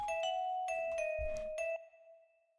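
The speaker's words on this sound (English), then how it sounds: "Then I added another vibraphone, but pitched up an octave." A vibraphone pitched up an octave plays a few sustained, bell-like notes in a short melodic line, bright and close, with the last note ringing out and fading on its own.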